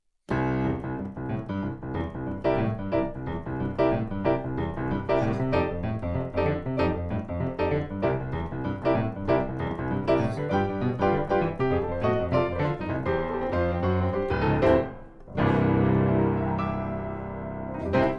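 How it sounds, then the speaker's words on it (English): A fast, driving boogie-woogie piano bass line rolls steadily with chords on top, bright and continuous, ending with a brief pause and a sustained final chord. "this Boogie Woogie bass line is one of the most essential ones that you ever learn"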